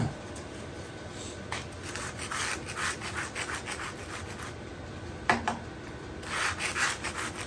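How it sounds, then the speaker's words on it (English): Scraping years of old crud off a Deckel FP1 clone milling machine, an Alexander Master Toolmaker mill under rebuild, giving steady rough rasping strokes up close, with one sharper knock partway through. "I'm just going to scrape off the worst of this."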